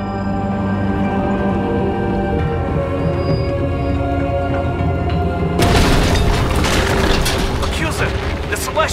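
Celestial super weapon firing in the Guardians of the Galaxy video game, heard as a deep sustained rumbling drone that swells into a loud roaring blast, with voices talking over it.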